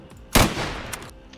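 A single sharp sniper rifle report in Escape from Tarkov, a sudden loud crack that decays over about half a second into a rumbling tail, with a faint second pop shortly after.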